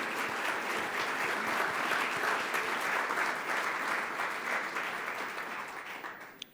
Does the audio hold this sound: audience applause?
yes